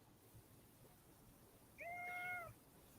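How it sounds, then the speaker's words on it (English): A cat gives one clear, drawn-out meow, faint and somewhat distant against a quiet background hiss. "Oh, it's the kitty."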